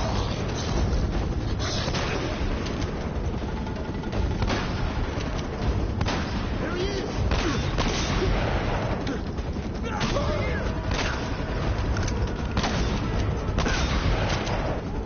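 Rapid gunfire and booms in a multiplayer shooter video game, dense repeated shots with artillery-like bursts continuing throughout, with faint voices beneath.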